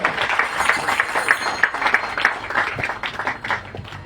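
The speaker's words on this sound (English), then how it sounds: "A huge round of applause to him" An audience at a Krishna Janmashtami tent program applauds a speaker being introduced, a moderate, continuous patter of clapping from a room of people.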